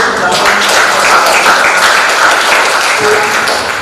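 Classroom applause as pupils clap for a classmate stepping forward, a dense, loud burst of clapping held steady for a few seconds before easing slightly.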